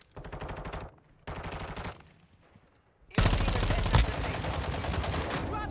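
Bursts of automatic gunfire in the Warzone video game, two short rattling volleys, then a louder sustained barrage with a sharp crack near the middle, close and dominant.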